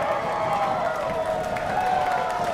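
A wrestling audience cheers and applauds in a steady, moderately loud wash of crowd noise, with commentary heard over it.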